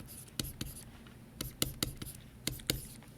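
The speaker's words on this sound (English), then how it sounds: "I'm going to write group number" A number is handwritten into notes, with faint close pen taps and short scratchy strokes in small clusters over a quiet background and no talking.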